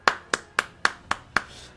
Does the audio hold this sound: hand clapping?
yes